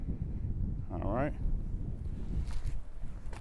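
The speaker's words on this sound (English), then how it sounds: "A little windy out here today." Steady outdoor wind rumbles and buffets the microphone through a residential street home tour, a low continuous roar with a brief voice-like sound near the start and faint rustles later.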